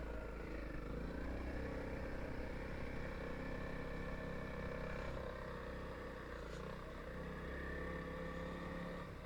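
BMW adventure motorcycles on a Colorado backcountry trail pass by with a continuous, moderately distant engine drone that swells slightly and fades, steady throughout with no talk.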